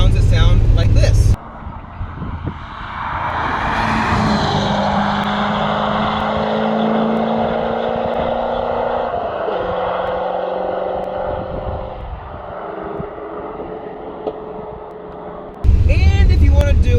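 A C4 Corvette exhaust while driving at speed, giving a steady droning engine tone that shifts pitch as the gears change, mixed with wind rush. Someone talks briefly before and after.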